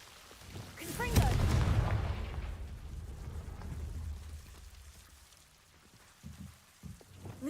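A Confringo blasting spell cast in the Hogwarts Legacy game bursts out as a loud, sudden explosive crack, then rumbles and fades over several seconds, with a few faint thuds near the end.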